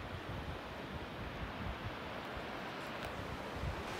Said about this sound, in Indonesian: Awas, ombak besar!